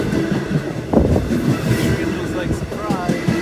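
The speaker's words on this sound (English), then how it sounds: "Oh, no, no, it's a diesel, it's a diesel." A diesel train on a New York area commuter line passes close by with a loud continuous rumble and rattling wheels, and people talk over it.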